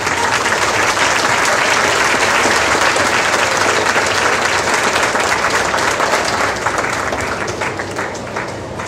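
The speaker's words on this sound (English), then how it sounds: "we'd love to clap and recognize you." Audience applause fills the room at the Lebanon Area Fair Queen coronation, a dense, steady wash of clapping that holds for nearly nine seconds before easing slightly toward the end.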